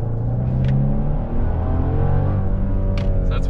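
A 2022 Genesis GV70 3.5T with engine sound enhancement switched off, heard from inside the cabin as a loud, steady engine drone and rising rev hum that lasts throughout with no talking.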